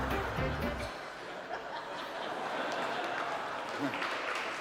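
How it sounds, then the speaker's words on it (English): Audience clapping and laughter at a stand-up comedy show, a steady wash of applause from a crowd of moderate size, with chuckles and a voice talking over it. "A round of applause, I guess."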